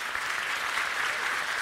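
A congregation claps steadily during an anniversary thanksgiving Sunday church service. The applause is brief, full and even, with no talking over it.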